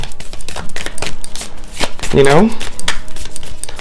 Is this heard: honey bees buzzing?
no